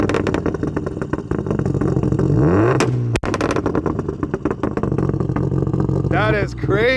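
An original 1995 Subaru WRX STI RA rally car engine revs hard and loud with anti-lag, rising and falling with sharp popping bursts, and a voice is briefly heard.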